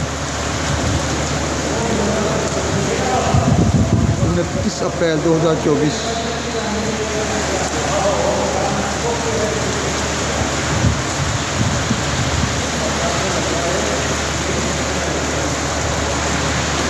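Heavy rain and strong stormy wind in Gondalanwala near Gujranwala on an April afternoon form a steady, dense roar throughout, with someone talking over the downpour.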